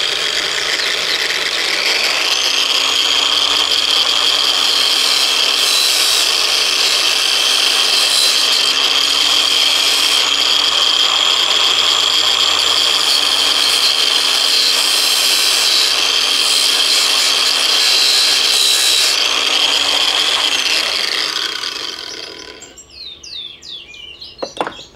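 A small homemade motorized lathe runs steadily with a whining, buzzing motor while a part is hand-sanded on it, the pitch shifting slightly as speed changes, then spinning down and stopping near the end with a few clicks.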